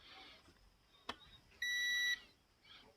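Multimeter continuity beep while testing a diode on a DTH set-top box circuit board, a single short high-pitched tone about half a second long, faint against a quiet room with a small click just before.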